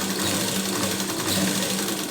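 A sewing machine stitches a blouse sleeve, its rapid mechanical chatter running continuously and close for the whole stretch.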